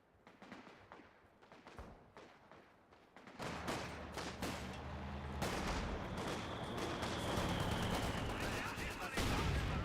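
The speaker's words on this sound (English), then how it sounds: "Great mortar hit there onto the Sturm officer" Mortar fire and gunfire in Company of Heroes 2 battle: scattered shots and thuds at first, then a dense, loud barrage of explosions and rapid fire building steadily, with a whistling shell sound midway.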